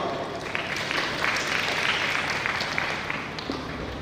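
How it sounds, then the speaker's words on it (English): Audience applause for a guest speaker at a dental college graduation and college day, steady clapping from a large hall that holds evenly for about four seconds without a break. "He needs a big applause."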